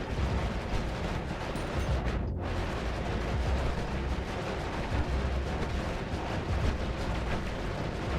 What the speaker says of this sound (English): I'm just gonna be automatically shooting.